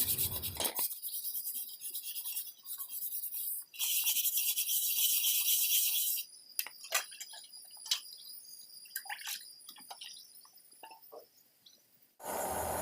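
Rough scraping and rubbing of sooty pots being scrubbed in a stream, in bursts, with pauses, trickles and clinks of water in between, close by.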